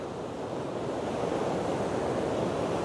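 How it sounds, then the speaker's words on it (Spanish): A waterfall in Huascarán National Park, Peru, roars as a dense, steady rush of falling water, loud and continuous with no voices. "tenemos una cascada hermosa. ¡Qué belleza!"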